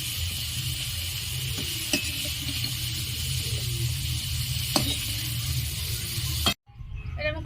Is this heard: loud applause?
no